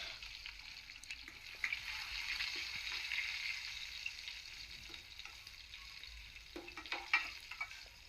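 Fish pieces frying in hot oil in a pan, a faint, steady crackling sizzle with occasional sharper spits and pops, heard close but at low volume with no talking.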